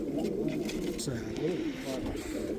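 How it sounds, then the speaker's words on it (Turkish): Domestic pigeons of white-crested and yellow fancy breeds cooing repeatedly in a loft, low throaty calls layered and continuous, with someone talking over them. "Zabıta Mehmetçiler kuşları kaçırmayın arkadaşlar"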